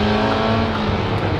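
Mercedes race car lapping a racetrack at the Adelaide Motorsport Festival: a loud, close, steady engine drone with a constant pitch, brief and with no voices.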